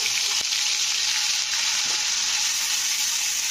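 Onion paste with a crushed cardamom frying in leftover fish-frying oil while being stirred, for a spicy chitol fish curry, a loud, dense, unbroken hiss with a couple of faint knocks.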